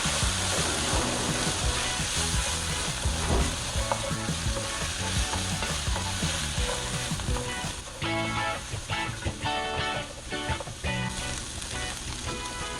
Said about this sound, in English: Some sliced almonds. Give it a good stir.